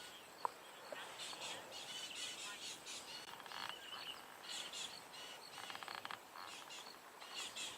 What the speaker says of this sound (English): You can hear quite a few birds are unhappy